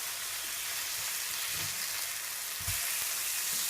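Pomfret fish coated in tandoori masala fries on a tawa over low heat, giving a continuous close sizzle with a few soft thuds and scrapes from the pan.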